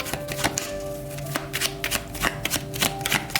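Tarot cards are shuffled by hand in rapid riffling bursts, close and fairly loud, with a repeating flutter of slaps and snaps.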